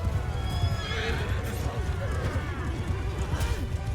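Horse neighing and whinnying with galloping hooves during a large-scale battle in the Mount & Blade Bannerlord Aserai campaign, the whinny rising clearly over a dense rumble of fighting and clip-clop for the full few seconds.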